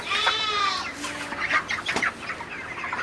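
A flock of 37-day-old broiler chickens, ready for sale at around 2.3 to 3 kg each, keeps up a steady stream of overlapping clucks and short calls, close and fairly loud, with no voices.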